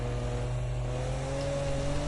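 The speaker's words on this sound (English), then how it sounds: "But turbo's whining." A Nissan Skyline R34 GT-R in a racing game lapping the Nordschleife gives a steady, loud turbo whine over a constant engine drone, with no talk.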